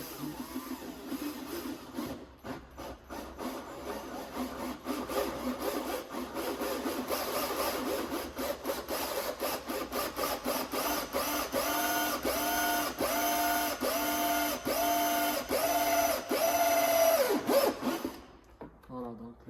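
A small drill bores a hole in plastic interior trim of a Mercedes A-Class W176, giving a close, steady whine with rapid pulsing texture that runs for several seconds and then stops abruptly.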